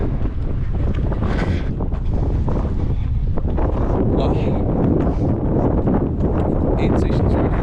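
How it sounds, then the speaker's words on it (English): Strong wind during a 50k trail race near Prescott, Arizona roars and buffets continuously close up, loud and gusty throughout. "Oh, it's so windy."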